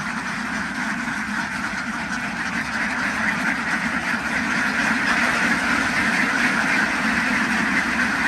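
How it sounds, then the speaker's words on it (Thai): A dense, continuous chorus of quacking from a large flock of rare ducks at a duck farm, loud and steady with no talking. "ช่วงนี้เป็น เป็ดที่ค่อนข้างหายากจริงๆครับ"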